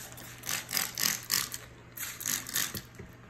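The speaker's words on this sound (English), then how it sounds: "So I'm spraying it with lukewarm water." A spray bottle misting lukewarm water over a shaped rustic sourdough loaf, a series of about six quick hissing squirts in an irregular rhythm, close and fairly loud.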